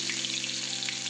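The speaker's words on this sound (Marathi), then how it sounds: "जिरे मोहरी तडतडल्यानंतर" Mustard and cumin seeds crackle and sizzle in hot oil in a kadhai, a steady close frying hiss with no talking.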